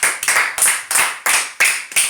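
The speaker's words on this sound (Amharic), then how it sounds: "በጣም ጥሩ፣ አጨብጭቡላት" A classroom of children claps together for a classmate in rhythmic unison, with about seven sharp, loud claps evenly spaced and close by, each fading before the next.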